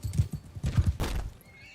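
During a Bannerlord battle, a horse snorts and neighs amid thudding hooves and combat clatter, a short burst of close, busy noise that fades into quieter background.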